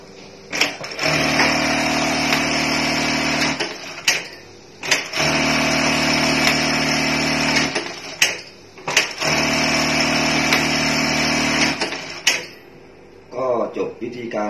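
A JACK 781E-Q buttonhole sewing machine runs in three steady, loud whirring cycles of about three seconds each. Sharp mechanical clacks start and end each cycle, with quiet pauses between and a brief rattle at the close.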